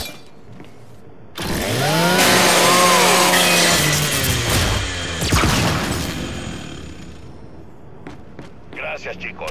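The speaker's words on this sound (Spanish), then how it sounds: "Usa la motosierra de tu Lancer" A Lancer rifle's chainsaw bayonet revs up loud in Gears 5, a rising whine with clanging impacts and crunching hits over a rumbling game soundtrack, fading out after several seconds.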